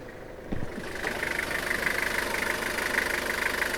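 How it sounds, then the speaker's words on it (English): A 3000cc diesel engine in a 2003 Toyota Hiace 4WD cargo van (5L engine) idles with a steady, slightly knocking mechanical rumble, close and continuous after a brief thump at the start. "And this is a 3000cc diesel engine."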